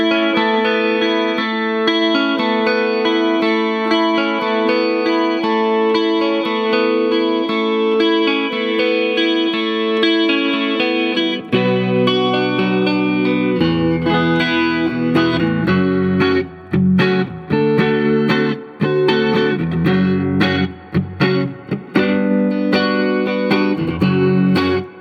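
A jangly 1988 Rickenbacker 360-12 V64 12-string electric guitar on its neck toaster pickup rings out through an amp with chorus and reverb, first sustained chords, then a busier strummed and picked passage.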